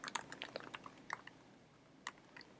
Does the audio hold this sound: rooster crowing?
no